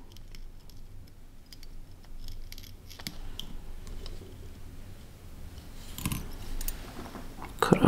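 Scissors snip off excess material while a caddis fly is tied at a vise, a few quick close cuts standing out from quiet background noise near the end.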